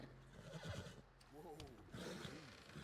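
A horse neighs in the Red Dead Redemption 2 video game, a clear whinny with rising and falling pitch heard twice across a few seconds, quiet but distinct against faint game ambience.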